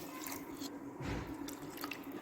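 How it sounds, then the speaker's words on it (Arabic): Water is poured into a pot while making Egyptian koshari, a short close splash and trickle lasting about two seconds, with no talking. "نحط بقى ميه"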